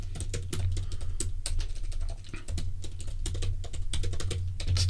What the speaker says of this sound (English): This is really loud typing,